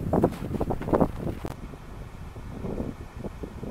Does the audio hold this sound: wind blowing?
yes